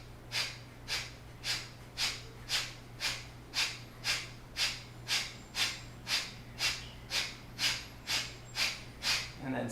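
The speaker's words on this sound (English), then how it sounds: "finish with some Kapalabhati breath" Kapalabhati yogic breathing during a classical yoga session, a steady series of about sixteen forceful nasal exhales in even rhythm, each a short breathy puff, close and clear over a low hum.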